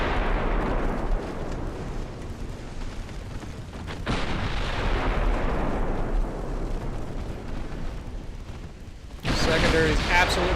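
Naval secondary guns firing at a destroyer in Ultimate Admiral Dreadnoughts, a dense rumbling wash of booming blasts that swells and drops, ending in a sharp loud burst.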